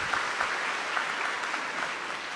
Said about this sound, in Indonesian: boleh kita berikan iringan tepuk tangan.